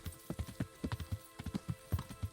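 Horse hooves clip-clop in a steady, even gait across a medieval game world in Kingdom Come: Deliverance, a dozen or so distinct footfalls, fairly close and clear with no voices over them.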